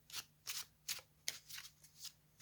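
A deck of playing cards being shuffled by hand in quick, crisp riffling bursts, about seven short rustles in a steady rhythm, close and fairly quiet with no voices.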